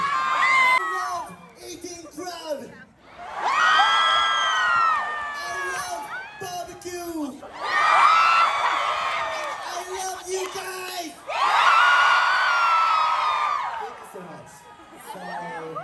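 A large crowd at a rock concert cheers, whoops and yells in loud surging waves that rise and fall several times, close and continuous.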